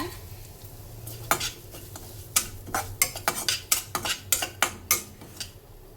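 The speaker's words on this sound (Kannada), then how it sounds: "ಇದೇ ಗೀ ಇದರಲ್ಲಿ ರವೆನ ಸೇರಿಸ್ಕೊಳ್ಳೋಣ." Semolina (rava) is stirred and fried in ghee in a pan. A soft sizzle runs underneath a run of close, sharp clinks and scrapes from a spoon against the metal, coming in quick irregular bursts.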